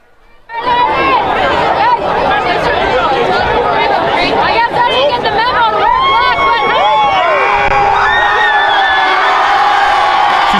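A high school student section at a varsity football game, York Catholic at Delone Catholic, roars with loud, sustained cheering, whoops and shouting chatter that fill the whole stretch without a break.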